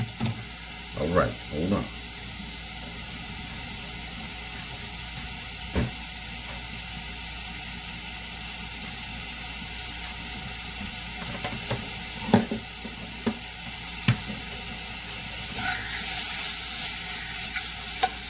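Bacon fries in a pan, rendering its fat with a steady sizzle and hiss, broken by occasional clanks and scrapes as the pieces are stirred. A voice speaks briefly.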